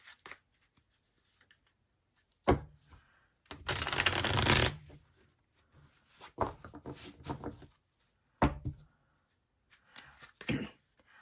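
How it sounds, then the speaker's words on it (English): Several bursts of tarot card shuffling, one long riffle in the middle and shorter flicks and taps around it, close by with quiet gaps between. "get shuffled up here for some clarifiers"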